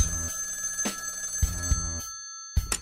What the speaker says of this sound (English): one day, the phone rings.